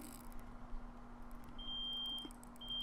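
An electronic bite-alarm beeper on a fishing rod in the Russian Fishing 4 game, set at the Akhtuba River carp spot, sounds a steady high-pitched tone that holds for under a second and then returns, over quiet ambient hum.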